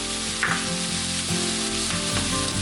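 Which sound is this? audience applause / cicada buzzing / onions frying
onions frying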